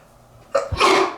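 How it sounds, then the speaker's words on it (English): One loud, close sneeze bursts out after a quick sharp intake of breath, alone in a quiet room. "I'm going to sneeze."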